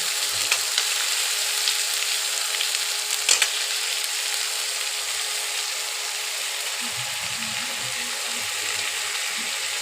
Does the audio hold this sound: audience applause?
no